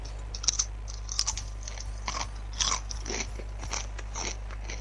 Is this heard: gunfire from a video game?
no